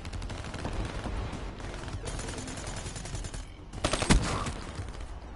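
Gunfire bursts in the Black Ops 3 multiplayer match on the Nuketown map, with repeated shots rattling through steady game noise and a louder, sharper blast near the end.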